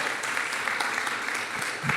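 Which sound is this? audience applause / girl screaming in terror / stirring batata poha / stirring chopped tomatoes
audience applause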